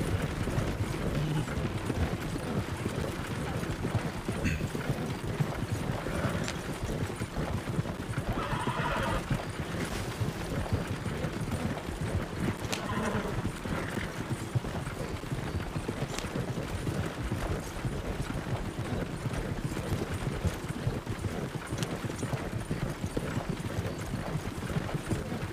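Horses in a video game clop and whinny continuously, with dense, overlapping hoofbeats and repeated neighs forming a loud, steady herd sound throughout and no voices.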